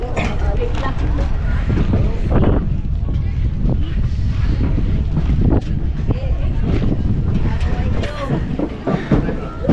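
A motorboat cruises at sea off Tingloy, Batangas, its engine roaring loudly and continuously under strong wind buffeting the microphone, with splashing water throughout.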